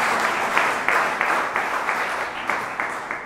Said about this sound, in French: les acclamations pour William Cham qui devrait être à l'écran.